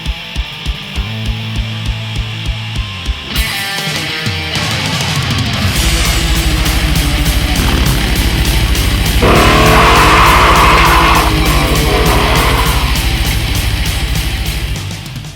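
A Jeep CJ fitted with an MSD digital ignition starts with a run of quick ticks, then its engine rumbles into a loud, sustained drone that swells and holds while driving.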